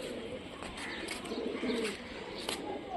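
A female Mushki pigeon coos softly in short, low phrases, faint against quiet background noise, with no speech.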